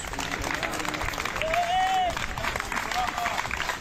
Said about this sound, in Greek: ξεσπούν σε χειροκροτήματα την ώρα που στελέχη τη πρώτη ειδική μονάδα δασικών επιχειρήσεων περνούν από μπροστά του